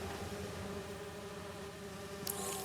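Bees in Marvel's Spider-Man 2 give off a soft, continuous buzzing drone that holds steady from start to finish, with no talking.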